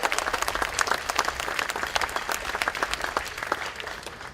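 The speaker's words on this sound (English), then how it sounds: "So let's give them a round of applause." Outdoor crowd at a July 4th band concert under a tent gives steady, dense applause that holds for several seconds before easing slightly.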